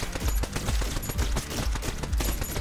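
A rapid-fire gun blasts Cheerio projectiles in the roguelike shooter Neon Abyss, a dense stream of punchy electronic shots at a fast, steady rhythm over game music and effects, loud and continuous.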